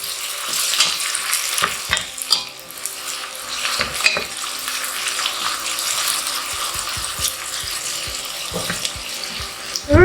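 Onion frying in a hot pan, a loud steady sizzle throughout with scattered crackles and clicks, and a sharper clatter at the very end.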